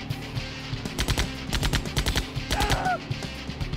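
Rapid bursts of game gunfire from Command & Conquer Remastered, the original first game, crackle in dense volleys under a busy battlefield mix, with a brief synthetic whistling tone near the end.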